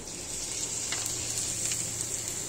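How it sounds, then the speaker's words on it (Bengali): Leaf pakoda sizzles in hot oil in a wide, shallow pan, a steady close crackling hiss with a few brief pops and no voices. "এই ধরনের ছড়ানো কড়াইতে ভাজবেন"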